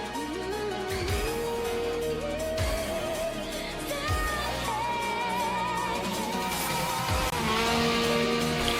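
Race cars from an Initial D fan film rev hard through the gears, with engine whines climbing and dropping at each shift, loud and continuous over a dense background layer.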